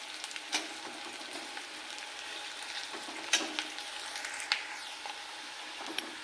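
Chopped onion and curry leaves fry and sizzle in a pan, a steady low crackle with occasional sharper pops and scrapes from stirring, close and fairly quiet with no voices.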